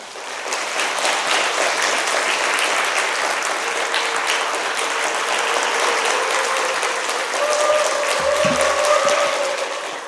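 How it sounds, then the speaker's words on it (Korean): A church congregation at a Friday worship service claps loudly and steadily to welcome a missionary, a sustained wash of applause lasting throughout with a faint tone and low thumps near the end. "우리 선교사님 나오실 때 큰 박수로 환영하겠습니다."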